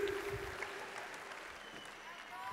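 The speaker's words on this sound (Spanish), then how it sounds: "El aplauso para Fernanda Luis, por favor" Faint audience applause at a cabaret show in Pachuca, soft scattered clapping heard at a distance beneath a voice that carries over it.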